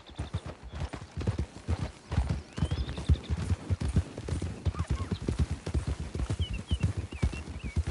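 Horse hooves clip-clopping at a steady riding gait in Red Dead, a close rhythmic pounding that runs throughout, with occasional faint birdsong above.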